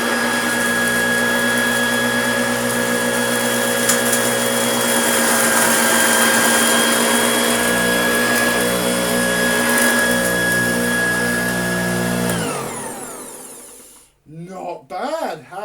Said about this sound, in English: Now we have Rice Krispies and sawdust. I don't know how much this is going to snowplow